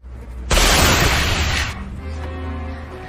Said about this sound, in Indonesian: kapten akan menembakkan pistol suar untuk menandai lokasi akuratnya.